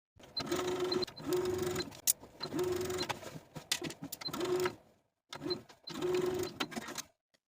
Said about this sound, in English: Now I'm going to take it to my sewing machine and sew along the line that I've transferred from dot to dot for both pocket pieces